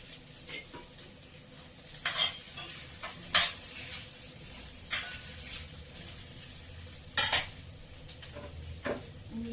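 Taro pieces half-fried in a pan, with a steady sizzle under sharp, irregular scrapes and clinks of a spatula stirring against the metal, close and fairly loud.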